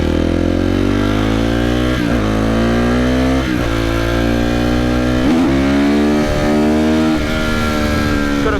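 Motorcycle accelerating hard along a road, its loud engine climbing steadily in pitch through each gear before brief drops at every shift, about four upshifts in a row, close and continuous.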